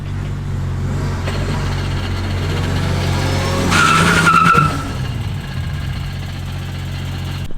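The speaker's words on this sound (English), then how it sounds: "Do a little drag race here." A Toyota MK4 Supra and another car launch in a short drag race, heard as engines droning near and steady with a brief surge and tire squeal midway, then easing back to a rumble.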